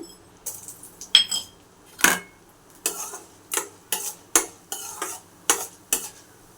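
Spoon scraping and stirring in a pan as urad dal fries in oil for a mango-ginger pickle tempering, giving about ten sharp metallic clinks in an uneven rhythm over a faint sizzle, close up with no voices.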